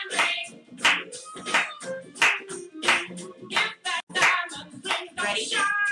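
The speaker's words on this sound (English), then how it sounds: "Let's clap." Hands clap in a steady beat, about one sharp clap every two-thirds of a second, close and crisp over a background of music in a children's rhythm lesson.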